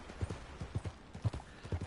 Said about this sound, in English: Instead I made my horse jump.